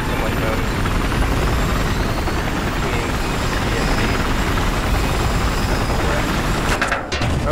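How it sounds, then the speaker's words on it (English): A helicopter's steady rotor chop and engine whine roar continuously up close in Battlefield 4, with a brief mechanical clatter near the end. "Okay, I got the chopper."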